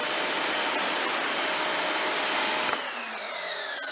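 Active 2.0 pressure washer spraying water, a loud, steady broadband hiss that cuts off sharply near the end, leaving a fainter whine with the motor pitch shifting.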